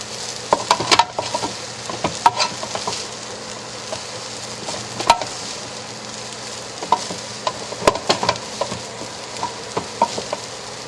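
Rice with onions, garlic and shrimp sizzles and scrapes in a hot pan as it is stirred and tossed, with irregular clinks and rustles over a steady frying hiss.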